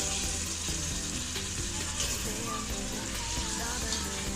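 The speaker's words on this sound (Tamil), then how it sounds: "நல்லா தக்காளி நல்லா ஸ்மாஷ் ஆகிற வரையும் நல்லா வேக வச்சுக்கலாம்" Chopped small tomatoes and five green chillies fry in a pan as a base for seeraga samba quail biryani, giving a steady close sizzle with soft stirring throughout, with no talk over it.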